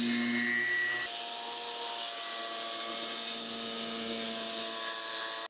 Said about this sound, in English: take my grinder and grind off this outer edge